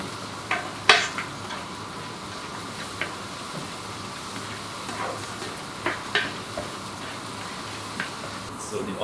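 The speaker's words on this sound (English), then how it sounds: "Looks quite pretty, just the onions sizzling away." Onions sizzle softly in a pan with rosemary, thyme and bay leaf: a steady low frying hiss with occasional small crackles and ticks, fairly quiet throughout.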